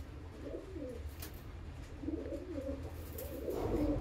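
A high-flying breeding pigeon, held close, gives soft, low, throaty coos in several short bursts. They sound quiet against a faint room background, with no talk.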